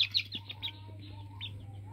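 Chickens on a poultry-rearing setup give a few short, soft clucks and chirps over a steady low electrical hum, close and fairly faint.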